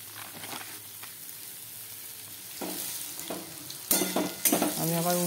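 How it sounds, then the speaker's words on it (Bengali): Bitter gourd slices frying in a pan, being turned over side by side, give a soft steady sizzle with scraping and clattering stirring noises that grow louder and busier toward the end. "আবার অপর পিঠটাও আমি এইভাবে উল্টে উল্টে ভেজে নিচ্ছি"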